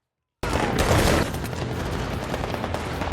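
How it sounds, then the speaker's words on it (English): Dense, continuous assault rifle fire from a film action scene, a loud rapid burst of overlapping shots that rattles on steadily for about three seconds without pause. "Under the hail of enemy gunfire, the guards at the gate fell one after another."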